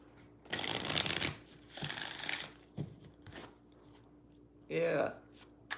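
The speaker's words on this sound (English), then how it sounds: "let me shuffle these cards" Playing cards being shuffled up close in several bursts of riffling and ruffling, with short pauses between them and a voice speaking briefly near the end.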